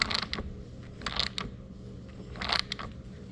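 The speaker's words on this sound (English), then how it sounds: "Let's screw it in." A metal pipe fitting coated with leak-lock sealant is screwed in by hand, giving a few short, close creaks and squeaks of turning threads in quick bursts, with no voices.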